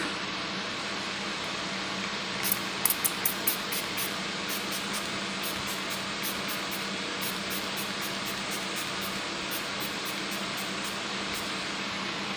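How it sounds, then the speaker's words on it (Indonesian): Hatomugi skin conditioner spray is misted onto a face in a burst of rapid, close spritzes early on, followed by a quiet background hiss. "Jadi aku akan semprotin Hatomoginya dan akan mingkem supaya bibirnya nggak kena."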